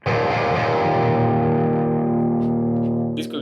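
An electric guitar chord rings out through a heavy metal amp model in BIAS Amp 2 based on a GCM 800, thick and loudly distorted, sustaining for about three seconds before being cut off.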